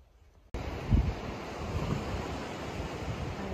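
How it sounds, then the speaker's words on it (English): Ocean surf rolls onto the beach at Edisto Island, South Carolina, a loud, continuous wash of breaking waves close by, mixed with wind buffeting the microphone after a sudden start. "Beautiful beach."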